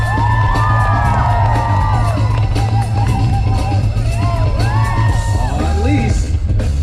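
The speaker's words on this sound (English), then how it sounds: "Crowd, if y'all see something you cannot do, make some noise." A breakdancing battle crowd cheers, whoops and yells continuously and loudly at close range, with shouting voices rising over the steady roar throughout.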